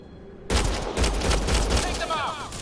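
A sudden, loud burst of sustained automatic gunfire in the sci-fi game Mass Effect Andromeda breaks in after a quiet moment and rattles on continuously to the end.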